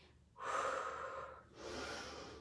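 Heavy breathing during a squat-and-lift exercise circuit: two long, rushing breaths, one about a second long followed by a second slightly shorter one, close and fairly soft with no talking.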